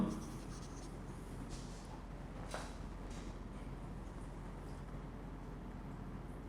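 Handwriting on paper during a mathematics lecture, a faint steady scratching of pen strokes against a constant low background hum, with no voice heard.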